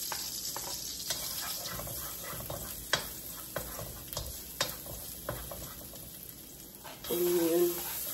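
Garlic frying in a pan for Filipino spaghetti gives a steady crackling sizzle with scattered sharp pops and stirring scrapes, and a voice briefly rises near the end.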